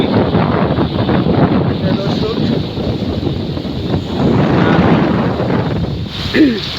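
Strong stormy wind buffets the microphone on the Padma river, a loud, constant roaring rush with gusts that swell and fade, heard from a fishing boat during a rainstorm.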